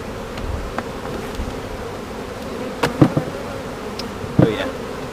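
Honeybee colony buzzing during a hive inspection, a steady close drone with a few sharper passes of individual bees flying near.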